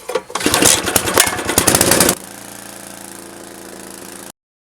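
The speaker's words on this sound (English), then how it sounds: "And if it's a Briggs & Stratton engine, you're going to have to pull it a lot of times." A Briggs & Stratton small engine on a power rake for dethatching a lawn sputters to life and revs loudly with rapid pulsing for about two seconds, then settles into a steady, quieter idle until it cuts off.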